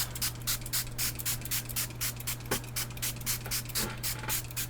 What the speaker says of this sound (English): I'm just going to start spraying kind of all over